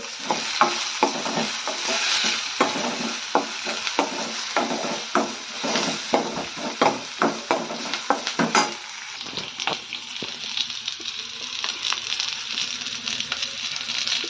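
Curry leaves spit and crackle as they hit hot oil with mustard seeds, chilli and onion, a steady broadband sizzle broken by sharp pops and stirring scrapes, close and busy throughout with no voices.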